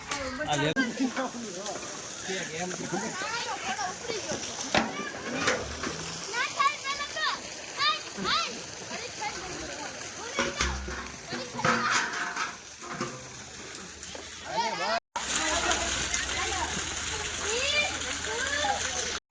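Children splash and jump in a water tank on a village farm, with repeated irregular splashes and water sloshing. Kids chatter and call out throughout, and there is a brief cut near the end.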